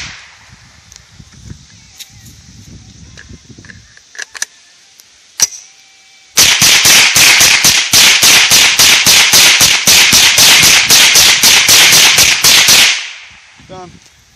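Guns fire in a fast, loud, continuous volley for about six seconds until their magazines run empty, after a few quieter clicks and taps.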